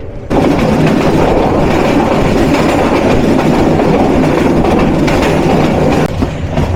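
Kishoreganj Express passenger train in Bangladesh running between Methikanda and Narsingdi stations, a loud, steady rumble with rhythmic rail clatter throughout, close and continuous with no talk.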